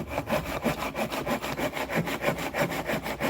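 A hand saw cuts into wood at an angle in steady, even back-and-forth strokes, about three per second, loud and close with no talk.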